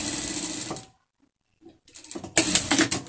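Sewing machine stitching a fabric mask, two short mechanical whirring bursts separated by a silent pause, close and moderately loud.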